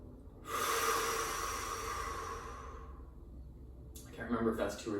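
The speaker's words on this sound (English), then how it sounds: "Let's take 3 good deep breaths and then we'll move on." A long, deep breath in and out during a guided stretching session, with a soft, steady airy rush lasting a couple of seconds. A second breath begins near the end.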